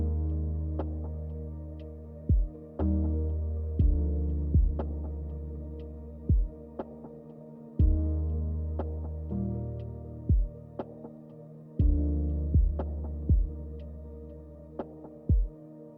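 Mellow lo-fi chillhop drum beat playing alone, a slow, evenly spaced pattern of soft, deep kick thumps with crisp hits layered over a warm, humming low-end bed, steady for the whole stretch.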